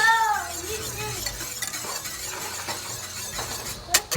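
Minced garlic is stirred through a cream sauce in a pan, a short burst of soft scraping and gentle sizzle, closing with a couple of sharp clinks of utensil on cookware.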